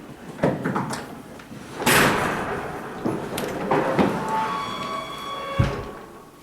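Fold-out queen-size bed pulled from a piece of furniture in a two-bedroom resort villa, with a series of loud clunks, scraping slides and rattling metal thumps over several seconds, ending in a heavy thud.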